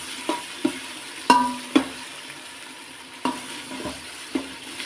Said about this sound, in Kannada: ಈರುಳ್ಳಿ ಹಾಕ್ಕೊಂಡು ಜೊತೆಗೆ ಇದು ರುಬ್ಬಿದ ಪೇಸ್ಟು ಅದನ್ನು ಹಾಕ್ಕೊಳ್ಳೋಣ